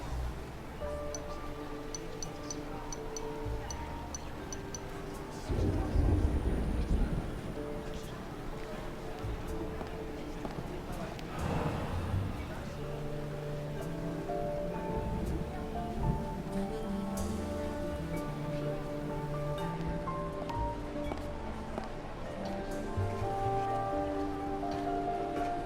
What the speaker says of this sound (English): You think it's going to be a quiet day and suddenly the storm hits you.